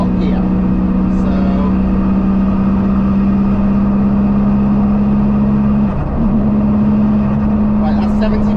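A diesel-swapped Toyota MR2 engine hums steadily in top gear at cruising speed, a constant low drone with road noise inside the car, loud and even, with a brief dip midway.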